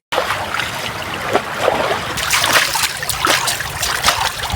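Water splashing and trickling as a vehicle is washed in a flowing village river, a steady close wash with irregular spurts and splashes, no voices.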